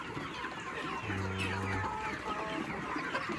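Chickens cluck close by, a short run of throaty calls rising over a steady background of farmyard noise.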